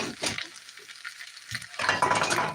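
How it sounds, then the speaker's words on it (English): Onions and thinly sliced potatoes fry in a pan. The sizzle is soft and crackling, and bursts of stirring scrape the pan at the start and near the end. "I've got onions and thinly sliced taters in a pan"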